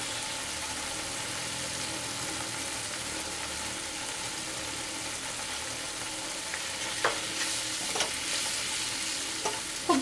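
Spices with turmeric and salt sauté in a pan over a medium flame for an egg omelette curry, a steady close sizzle with a few sharp stirring scrapes near the end.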